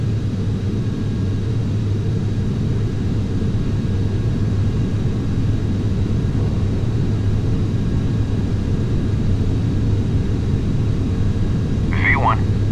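Steady, loud rumbling engine roar of an airliner on its takeoff roll in Microsoft Flight Simulator X, continuous throughout with only a brief chirp near the end.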